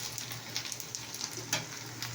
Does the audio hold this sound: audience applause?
no